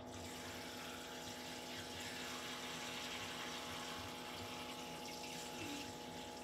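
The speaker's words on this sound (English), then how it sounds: "We're gonna fill it with water." Water running into a pot while cooking a curry with mutton snapper, a steady soft pouring rush over a low humming background, continuous and faint.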